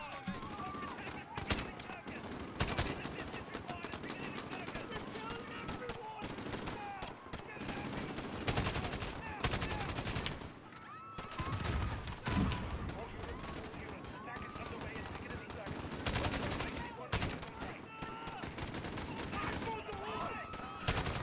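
Dense, continuous AK rifle gunfire in the Modern Warfare video game campaign, loud rapid bursts and shots layered over one another for about twenty seconds, with a voice talking over the shooting.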